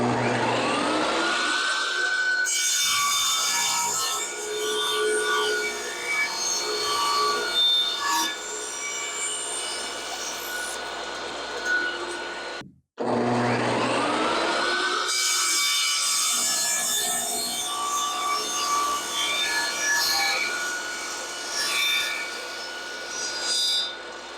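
A saw cuts through wooden decorative molding in a workshop, a loud steady rasping drone that runs for about twelve seconds, stops briefly, then starts again for a second long cut.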